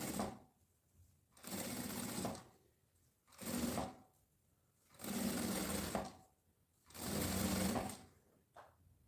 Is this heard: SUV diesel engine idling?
no